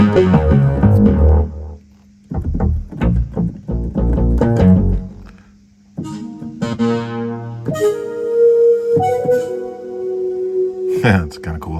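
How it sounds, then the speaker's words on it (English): A Kurzweil K2700 synthesizer plays several FM patches one after another. Choppy, metallic stabs give way to sustained, bell-like and buzzy held notes, loud and clear over about twelve seconds. "These are FM sounds."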